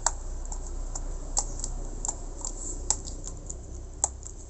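Rapid typing on a newly replaced keyboard of an Acer One Happy2 laptop, crisp clicking keystrokes at an irregular pace with a few louder taps, close by and heard alone.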